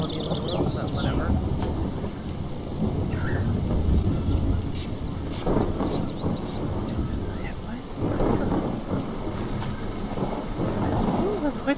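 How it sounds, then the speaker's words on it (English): A thunderstorm rolls through the farming video game Farm Manager 2018, with steady rain and deep rumbling thunder swelling in loud bursts around four and eight seconds, while a voice talks over the storm. "There's quite the storm coming. It's quite the storm coming down."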